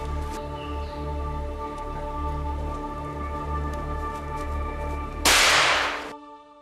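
A single sharp, loud gunshot bursts out over steady background hum, then cuts off abruptly into near silence.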